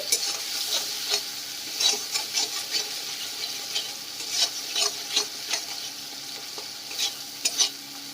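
A spoon stirs spice masala loosened with a little water for a pomfret curry, producing soft wet scraping and sloshing strokes in an uneven rhythm, close and fairly quiet, with no talking.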